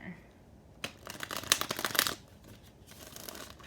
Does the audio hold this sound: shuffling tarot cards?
yes